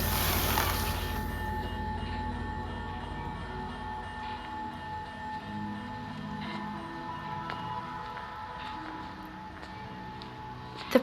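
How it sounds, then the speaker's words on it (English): A toy train set rattles and rumbles along its track, loud at first, then slowing and thinning out as it grinds to a stop, ending with a small clack. "the last thing I saw before exiting was the train set crashing to a stop."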